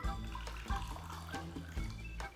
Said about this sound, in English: measuring a half a cup of warm water into each of these glasses